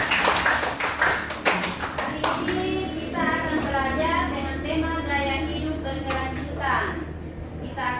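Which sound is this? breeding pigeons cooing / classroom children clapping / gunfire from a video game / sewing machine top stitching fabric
classroom children clapping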